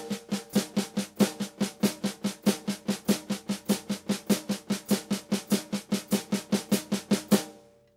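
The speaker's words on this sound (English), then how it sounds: "play a single stroke roll on the snare drum" A snare drum plays a steady single stroke roll in triplets while a hi-hat marks quarter notes. The strokes are crisp and evenly spaced, close and fairly loud, then stop abruptly.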